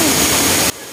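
Mag-Aso Falls, a waterfall with people swimming below it, gives a loud, dense rushing hiss of falling water that cuts off abruptly near the end.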